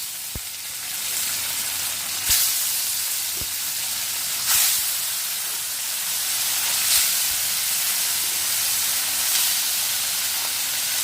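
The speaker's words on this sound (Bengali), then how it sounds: "এই মাছটা ভেজে নিই, তারপর পমফ্রেট মাছটা ভাজবো।" Fish frying in hot mustard oil in a home kitchen pan, a steady close sizzle and hiss with a few louder spits and crackles bursting through at intervals, no voices over it.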